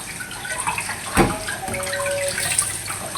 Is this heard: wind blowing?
no